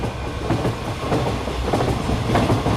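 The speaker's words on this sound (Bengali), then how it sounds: "জানলার বাইরে তাকিয়ে দেখি মেমারি স্টেশন থেকে ট্রেন ছাড়ছে" A train pulls out of Memari station, heard from inside with a rumbling low roar and rhythmic clickety-clack of wheels over rail joints, loud and steady, with no one speaking.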